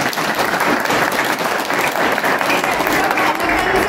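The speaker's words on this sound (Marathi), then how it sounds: "त्यांच्यासाठी जरा टाळ्या वाजवल्या" An audience at a talk breaks into dense, sustained clapping, loud and close, with a faint murmur of the crowd mixed in.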